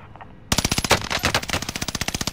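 Rapid automatic gunfire erupts abruptly in a military shooter game after a brief quiet lead-in, a dense, loud run of evenly spaced shots continuing steadily to the end with no voices over it.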